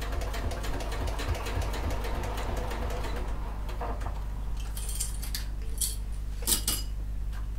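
A sewing machine stitching around the seams of a clutch, a continuous close mechanical whir and rapid needle clatter, then a pause with light metallic clinks of handling.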